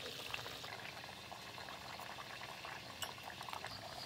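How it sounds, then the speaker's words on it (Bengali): Fish curry broth bubbles at a steady rolling boil in a pot, a continuous close texture of popping bubbles with no talk. "আর এদিকে ঝোল ফুটে গেছে, ভেজে রাখা সব মাছগুলো দিয়ে দেব।"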